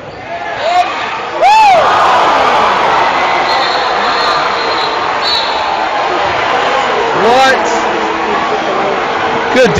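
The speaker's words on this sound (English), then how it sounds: "Crowd not happy with the call going Oakwood way." A basketball game crowd grumbles and shouts in protest after a referee's call in a men's college game, a broad, sustained roar filling the gym under a commentator's voice, with squeaking sneakers and a whistle-like tone.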